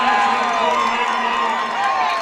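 A basketball crowd at a Lady Braves versus Louisville state championship game cheers in a steady, dense roar that holds for the whole stretch, loud and close, with a broadcaster's voice running over it.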